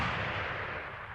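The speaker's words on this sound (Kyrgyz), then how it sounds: "Бизди ата баштады." Dense, continuous burst of gunfire in the video game PUBG, loud and close, filling the whole moment with no talk over it.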